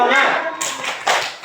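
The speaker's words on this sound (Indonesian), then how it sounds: "Ya, kita tepuk semangat dulu." A classroom group performs a rhythmic spirit clap, with a few sharp, close bursts of hand clapping in quick succession among voices.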